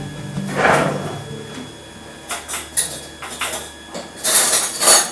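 A spoon and a fork taken from a drawer, with a slide and thump of the drawer followed by several short metallic clinks and rattles of cutlery, close and fairly loud, no talking.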